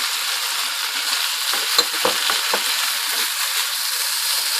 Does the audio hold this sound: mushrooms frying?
yes